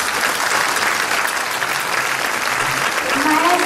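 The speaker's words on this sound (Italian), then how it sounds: "Un applauso per favore." Audience applause at a school concert in the Teatro Rendano, Cosenza, fills the hall as a steady, dense wash of many hands clapping, loud and continuous throughout.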